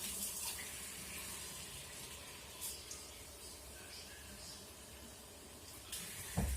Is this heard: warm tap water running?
yes